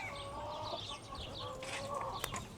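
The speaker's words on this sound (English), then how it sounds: "There's my rooster." Buff Laced Polish chickens, a rooster among them, cluck and murmur in a breeder pen, with soft overlapping calls at moderate distance and a sharp tap near the end.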